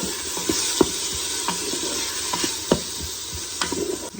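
Half an onion and garlic sautéing on an Instant Pot's sauté setting, a steady close sizzle with a few light clicks and stirring taps, no talking.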